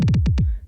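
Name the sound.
kick drum roll fill in a music track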